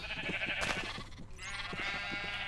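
Several sheep bleat in the Minecraft video game, wavering cries overlapping loudly and continuously with no talk over them.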